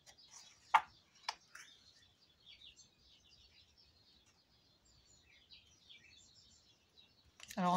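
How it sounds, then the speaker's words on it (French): Faint spring birdsong outdoors, scattered high chirps and tweets coming from a distance, broken by a couple of sharp nearby knocks. "Alors on entend les oiseaux, c'est le printemps"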